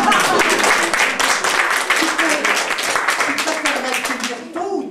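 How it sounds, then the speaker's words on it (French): Lively applause and clapping from a show audience, with individual claps standing out, while someone talks over it. "Applaudissez encore."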